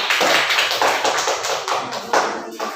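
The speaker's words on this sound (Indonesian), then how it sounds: "jadi untuk tepuk tangan untuk kita semuanya" A class breaks into applause, a dense, crisp patter of many hands clapping close by, steady with slight surges over a few seconds.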